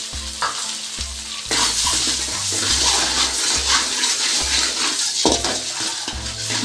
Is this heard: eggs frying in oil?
yes